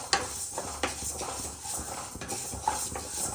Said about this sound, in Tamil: இந்த டைம் வறுத்து பொடி பண்ணி ரசம் வைக்கலாம்னு சொல்லிட்டு வறுத்துட்டு இருக்கேன் ஃப்ரெண்ட்ஸ்